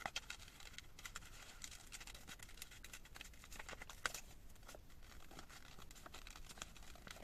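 Paper being cut for a Christmas-themed junk journal, soft close rustling and crinkling with faint repeated scissor snips, quiet and continuous with no voices.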